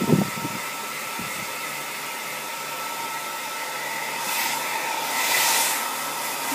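A hair blower runs steadily with a loud, continuous airy roar, briefly interrupted near the start, then swelling slightly louder toward the end.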